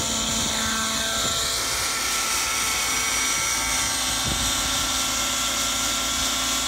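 A GAUI NX7 RC helicopter hovers at low head speed with a steady, loud high-pitched rotor and motor whine, close by and continuous with no talk.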